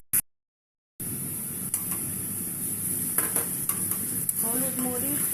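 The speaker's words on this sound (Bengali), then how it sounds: "আদা রসুনটা আগে একটু ভেজে নিচ্ছি" Ginger and garlic frying in oil in a pan, added after the onions have browned for a beef spleen curry: a steady bright sizzle with occasional utensil scrapes and clinks, and a voice briefly at the end.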